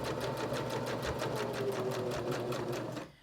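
A sewing machine runs continuously, stitching a very narrow seam on the pocket of a reversible placemat with the inside edge of the presser foot, a close, steady rapid whir and tick that stops abruptly near the end.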